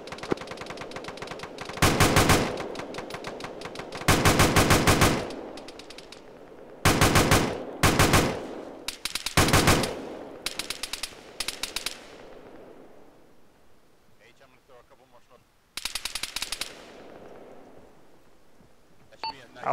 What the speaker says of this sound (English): Alpha definitely taking fire from the church.